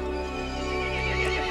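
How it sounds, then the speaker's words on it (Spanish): A horse in the Resident Evil Village video game gives a loud, angry whinny, with a steady roar and faint hoof clatter underneath. "El caballo se enfureció y llamó a las otras criaturas."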